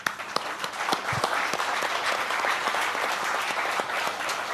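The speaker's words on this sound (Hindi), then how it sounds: "आई वॉन्ट तालियां ऑन दिस।" Audience applause fills the room, dense steady clapping from many hands starting abruptly and holding at a fairly even level throughout, with no voices over it.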